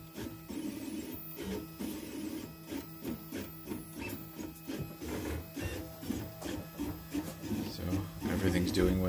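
A 3D printer run through OctoPrint whirs and whines in rapid, rhythmic stepper-motor bursts as the print head moves, steady and close, with a voice heard at moments.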